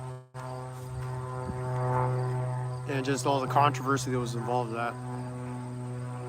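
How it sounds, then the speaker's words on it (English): A crop duster airplane flies overhead on a local farm, its steady droning hum running through the whole stretch in the background while someone talks over it. "That sound you hear in the background is a crop duster just tweaking out hard today."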